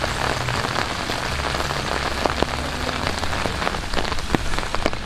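Heavy rain pours steadily onto surfaces outdoors during a snowy fishing competition in Adygea, a dense continuous hiss with scattered louder drips and splats throughout, close and unbroken.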